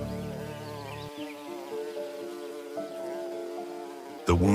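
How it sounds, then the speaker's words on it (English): Bees buzz around a giraffe's wound outdoors, a close, steady insect drone with sustained tones that shift in pitch. A sudden loud burst of noise comes at the end. "The bees were still crawling around as if they had not left yet."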